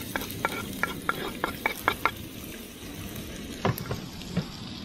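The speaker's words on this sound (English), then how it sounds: "Give that a bit of a stir." Garlic and onion frying in oil in a camp oven outdoors, a soft continuous sizzle broken by a quick run of about eight rhythmic scraping stirs, then a few more knocks near the end, without speech.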